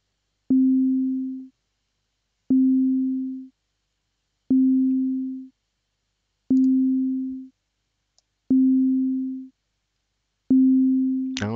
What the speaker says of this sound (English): That's a middle C being played every 2 beats